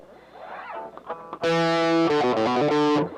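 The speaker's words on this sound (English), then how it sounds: "this guitar sounds horrible with overdrive" An overdriven electric guitar plays a short riff, then rings out sustained distorted chords, loud and gritty, ending abruptly.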